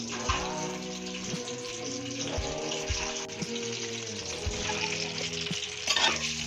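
Potatoes and eggs frying in ghee in a kadai over medium heat, a continuous sizzle broken by repeated scraping and stirring clatters from a utensil.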